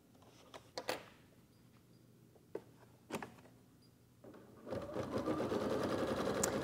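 An embroidery machine tacking cuddle fabric down to stabilizer, with faint clicks and taps at first, then a steady, fairly loud stitching whir for the last couple of seconds.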